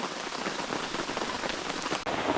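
Steady heavy rain pours down on a surface, a dense continuous hiss of drops close by with no voices.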